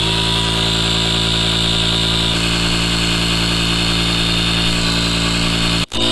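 Battery-powered 12-volt pump inflating a Saturn FB365 inflatable boat, a loud, steady motor whine and buzz running continuously, cut by one brief dropout near the end.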